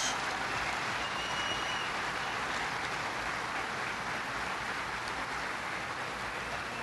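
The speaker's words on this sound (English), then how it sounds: "Let's give them a round of applause." Audience at a Republican Party Lincoln Day Dinner applauds American soldiers, a steady wash of dense, somewhat distant clapping that holds evenly throughout.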